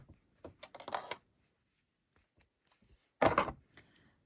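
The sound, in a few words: scissors snipping yarn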